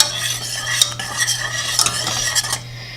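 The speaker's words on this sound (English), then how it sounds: "I'm just going to whisk that in" A whisk beats powdered allulose sweetener into a mixture for keto blueberry crumble bars, producing close, rapid rhythmic scraping and clinking against the bowl that stops abruptly near the end.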